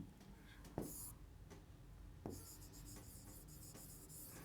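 A teacher writes on a board during an English grammar lesson, producing soft, continuous scratchy strokes with a couple of sharper taps, faint and close over quiet room tone.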